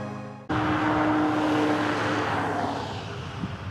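Loud, steady road noise from passing cars near Pokrovsk, Ukraine suddenly swells in and holds as a continuous rumbling roar, easing slightly toward the end.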